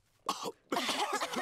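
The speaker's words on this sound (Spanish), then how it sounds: "Los adultos se contagiaron de la tos que tiene Pedro." Two cartoon coughs from animated adult characters in a children's cartoon, a short bark followed by a longer rasping fit, loud and close with no talk over them.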